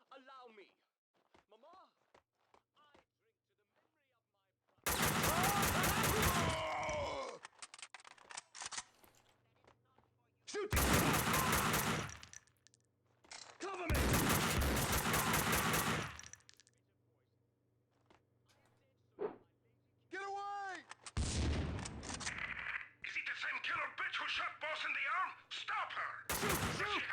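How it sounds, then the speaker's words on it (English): Bursts of gunfire in Max Payne 2 arrive in several loud volleys separated by quiet stretches, with a steady low hum running beneath and brief spoken lines between the shots. "I can still hear gunshots."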